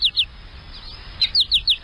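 Small songbirds chirp at a backyard smart bird feeder, with short bright tweets in two quick pairs, then a run of four rapid calls, fairly close over a soft outdoor hum.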